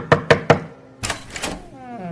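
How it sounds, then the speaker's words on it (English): Three quick, hard knocks land on a wooden door, close and evenly spaced, followed by a brief rustling, shuffling noise and a fading tonal tail. "He gave it another knock"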